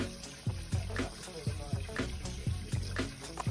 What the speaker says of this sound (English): right now I am just rinsing the peas, trying to get any extra or the excess dirt off